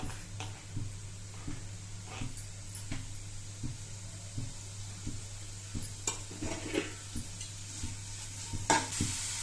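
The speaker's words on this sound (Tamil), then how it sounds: "இப்போது பூண்டும் பீன்ஸு வெங்காயம் ஒன்றா சேர்த்து வதக்கிட்டு லைட்டாக உப்பு போட்டுக்கோங்க" Garlic, beans and onion sauté in a pan, a soft continuous sizzle with regular light scrapes and taps of a stirring utensil, fairly quiet and close, with a low steady hum underneath and no speech.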